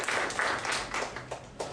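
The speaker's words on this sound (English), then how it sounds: "Give a round of applause." Brief audience applause in a discussion session, with scattered hand claps in uneven bursts at moderate volume, fading over under two seconds.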